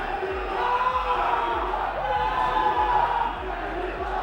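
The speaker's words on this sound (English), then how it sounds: "So you hear the energy in the crowd." A crowd at a Dart Zone Pro foam-blaster tournament match roars and cheers in a sustained swell that fades near the end, while a rhythmic low thumping runs underneath.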